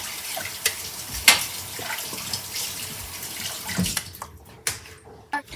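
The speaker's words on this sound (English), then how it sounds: "Rinse my hands." A kitchen faucet runs steadily while hands are rinsed under it during muffin baking, a close hissing splash with small clatters and knocks, before the water is turned off and a few faint drips and handling sounds remain.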